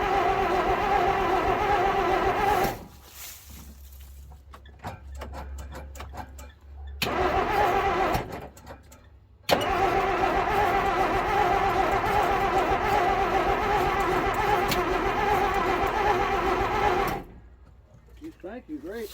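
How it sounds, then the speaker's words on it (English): A 1946 Plymouth engine with no spark, after sitting six years, cranks hard in two long whirring bursts without catching, separated by quiet pauses with brief voices. "Cranking great. We got no spark though."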